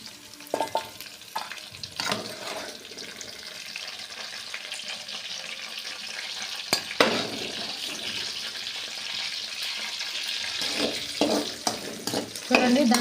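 Ivy gourds (dondakaya) roasting in oil in a pan, a soft continuous sizzle and crackle with occasional stirring clatter, fairly quiet and close.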